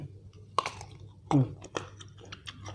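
Crunchy mango dipped in sauce being chewed, with a few distinct bites and crunches close to the mic, loud separate bursts spaced over a couple of seconds, and no talk.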